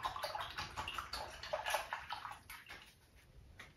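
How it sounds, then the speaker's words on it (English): A paintbrush used for acrylic painting is swished and rinsed in a water container close by, with quiet splashing and gurgling in quick, uneven bursts that taper off toward the end. "I'm gonna rinse my brush out."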